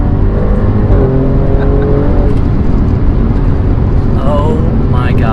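A 2018 Audi Q5 SUV engine revs loudly and steadily up close, with a rising whine near the end and a person speaking over it.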